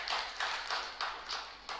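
Faint applause at a Kikuyu church service: five short, evenly spaced bursts of clapping with no talk over them.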